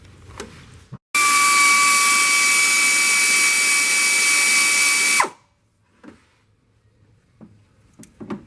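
A power tool whirs at a steady high-pitched whine for about four seconds while removing the viscous fan support bracket on a Land Rover 5.0 or 3.0L engine, then stops abruptly, leaving faint clicks and handling noises.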